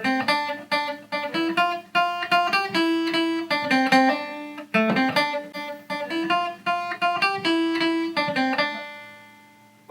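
A guitar plays an intermediate riff with a hammer-on, busy picked notes in two flowing phrases that ring out at the end, close and clear with no talk.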